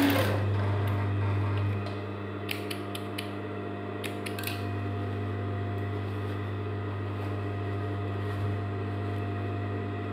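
Sewing machine stitching the waistband seam of a pair of jeans, a steady close mechanical hum with a strong low drone and occasional light clicks and creaks, running continuously without talk.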